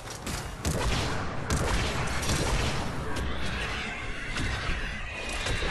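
Rapid shotgun blasts from the Disciple shotgun in the Mass Effect 3 video game, dense bursts of firing crowding one another in a loud, continuous barrage of combat noise.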